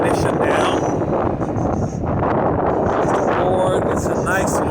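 Wind buffets a microphone while skateboarding through San Francisco streets in the evening, a loud continuous rumbling roar with gusty swells throughout.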